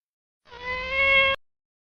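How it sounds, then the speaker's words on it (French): A single clear cat meow lasting about a second, close and fairly loud, with no other sounds around it. "Par contre, le chat est doux."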